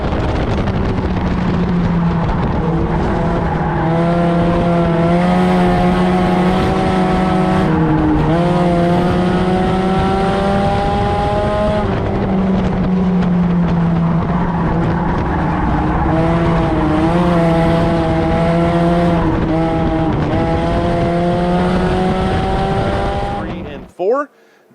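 Race cars, including the 18 car, screaming around a track, engines holding high revving tones that rise and fall through laps, loud and continuous, with a spectator voice nearby, ending in a sudden cutoff.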